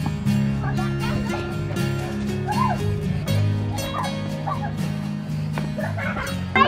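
A dog barks repeatedly in short, scattered yips and woofs at moderate distance, heard under ongoing conversation between people at a rural property in Guatemala.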